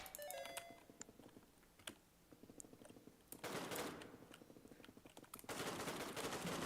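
Video game gunfire: a run of rapid automatic shots and scattered single cracks, fairly loud over quieter clicking, with a heavier burst near the end.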